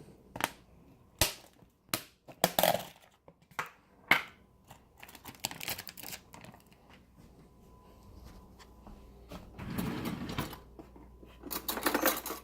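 A plastic container of red potato salad is opened, giving a run of sharp close clicks and crackles from the lid followed by rustling and scraping handling noises.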